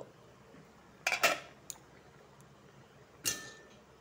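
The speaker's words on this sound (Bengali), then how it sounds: "ঢাকনাটা খুলে দেখব।" A metal pot lid clinks and clatters as it is lifted off a pot of simmering potatoes and Malabar spinach stalks, with two close, bright rattles a moment apart and a third clink shortly after.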